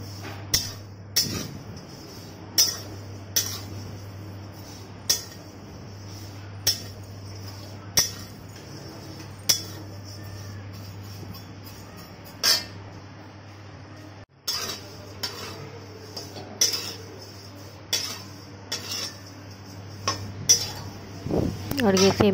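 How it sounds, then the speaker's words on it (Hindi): Metal utensils clink and scrape steadily against a pan while vermicelli (seviyan) fries for a sweet prasad offering, sharp regular taps over a low steady hum, close and fairly loud with no talk. "और ये सेमियाँ फ्राई कर रही हूँ मैं।"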